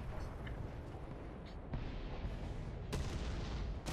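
A tank cannon fires in the War Thunder ground battle game, with three heavy booms spaced about a second apart over a dense, rumbling battlefield background.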